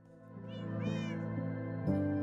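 Cats meow in the Minecraft video game, a few drawn-out rising and falling mews overlapping close up, with no talking.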